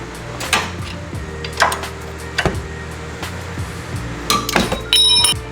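Metal bracket being taken off a sway bar bushing on an NC Mazda Miata: sparse close clinks and light taps spread over several seconds, ending in a brief bright metallic rattle.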